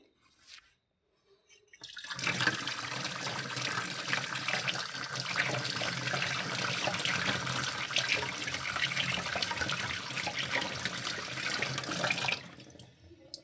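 A kitchen tap gushes steadily while someone washes their hands before cooking, a close, even rush of water lasting about eleven seconds that starts and stops abruptly, with no voices.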